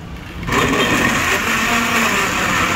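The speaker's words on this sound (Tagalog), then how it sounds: "Blender na." A blender making a pineapple breakfast drink starts up abruptly and runs loud and steady with a high whirring motor hum, no voices over it.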